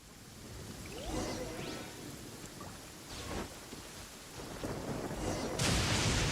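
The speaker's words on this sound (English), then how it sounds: "Uh-oh! Lightning storm!" Steady rain in a Genshin Impact thunderstorm, with rumbling thunder rolling in a few times and a louder burst of crackling noise near the end, heard alone without talk.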